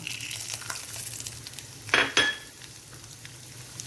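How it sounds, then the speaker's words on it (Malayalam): Urad dal drops into hot oil with already popped mustard seeds, making a steady sizzle with a brief louder burst of frying and a light clink of a utensil, no talk. "കടുകൊക്കെ നന്നായി പൊട്ടിയിട്ടുണ്ട് ഞാനപ്പോൾ ഇതിലേക്ക് കുറച്ച് എടുത്തു വച്ചിരിക്കുന്ന ഉഴുന്നും"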